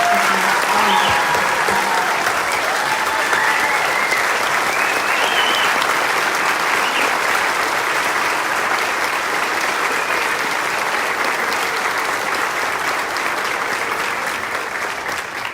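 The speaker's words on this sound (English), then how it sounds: "Please stand and give a round of applause." A standing audience applauds at a 2021 high school graduation ceremony, sustained dense clapping filling a large room for about fifteen seconds, steady and loud, with a few faint voices and cheers mixed in before it begins to fade.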